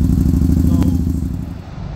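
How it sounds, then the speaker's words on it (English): A BRP Can-Am three-wheeled motorcycle engine with an aftermarket exhaust idles with a loud, steady, throbbing rumble up close, easing off slightly toward the end. "Aftermarket exhaust, which gives a nice little different tune"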